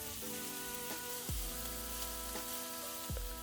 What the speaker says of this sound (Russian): в небольшом количестве растительного масла обжариваем нарезанную мелкими кубиками